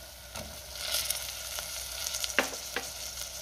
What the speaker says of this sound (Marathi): आता ह्यात आपल्याला टोमॅटो घालायचा आहे